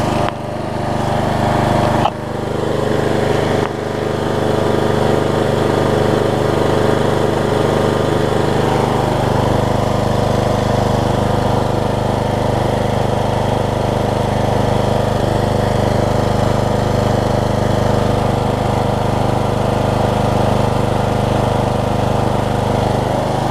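A Troy-Bilt Bronco riding mower, converted from a Kohler to a Briggs engine and fitted with a new muffler, runs steadily at close range, a continuous loud engine drone with no break.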